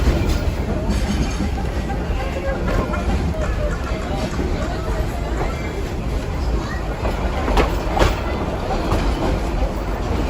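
An amusement park train rumbles along steadily with faint rhythmic clatter, loud and continuous, while a crowd murmurs in the background.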